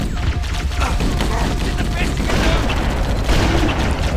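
Gunfire from the Halo: Combat Evolved video game, with a dense, loud barrage of shots and booms packed together over the game's noisy soundscape.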